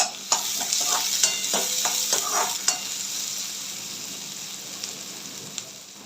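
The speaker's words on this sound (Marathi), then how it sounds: "एक बारीक चिरलेला कांदा ॲड करायचा आणि कांद्याला मस्त गोल्डन ब्राऊन कलर येईपर्यंत परतून घ्यायचा आहे तेलात" Finely chopped onion fries in hot oil, with a steady sizzle under several sharp scrapes and knocks of a spatula in the first few seconds, then a softer, even hiss.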